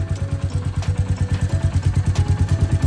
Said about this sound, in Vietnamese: Đó, bây giờ là cái tiếng động cơ.